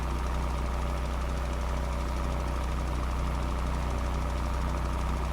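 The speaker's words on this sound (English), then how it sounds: "Your blue tractor is still running by the..." A blue tractor's engine idles steadily in a farming video game, a constant, even mechanical drone with a faint knocking texture and no change in pace throughout.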